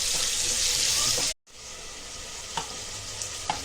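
Water runs steadily from a tap into a sink while rice is washed, briefly cutting off, then resumes with a softer flow and occasional light clinks.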